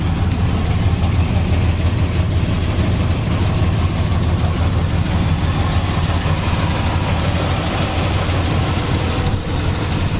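A 1968 Chevelle Super Sport with an upgraded 454 engine and headers runs at a steady idle, a continuous low rumble, fairly loud and alone.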